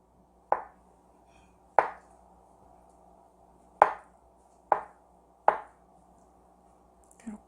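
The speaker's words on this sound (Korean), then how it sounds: "얘를 1cm 정도 되게 깍둑 썰기 할게요" A knife dices soaked tofu into 1 cm cubes for mapo tofu, striking a cutting board in five crisp, evenly spaced chops with quiet pauses between, then a faint clink at the end.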